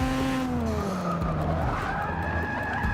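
A car drifting in the video game Forza 6, tires squealing in a long rising and falling skid over a loud, steady engine roar, close and continuous.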